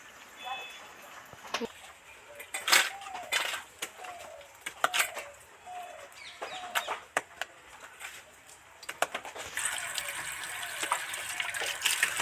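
Water splashes and gushes while live Sundarban sea crabs are washed, with scattered clicks and knocks of shells, a closer rushing pour near the end, and faint voices and birds in an outdoor setting.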